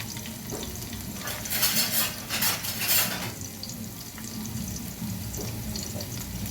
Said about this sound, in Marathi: लसूण आपला छान आता परततोय इथे मस्तपैकी.